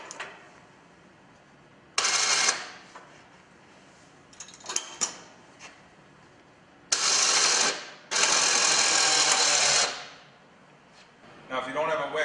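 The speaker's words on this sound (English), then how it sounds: "Now that we have the winch attached, we can raise and lower the blade." An ATV winch runs in several bursts of steady whine as it raises and lowers a Kolpin X Factor snow plow blade, loud and close with short gaps between pulls and a few clicks.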